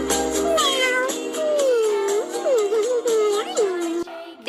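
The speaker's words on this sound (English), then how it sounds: "C for cat" A cat meows repeatedly in a children's alphabet song, its drawn-out, wavering cries loud and close over a musical backing, ending abruptly.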